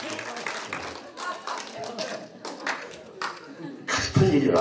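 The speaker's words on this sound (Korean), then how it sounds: "이쪽만 박수하세요" Scattered clapping from one side of a church assembly at a leadership workshop, mixed with chuckles and murmuring voices, then swelling louder with a burst of nearby clapping at the end.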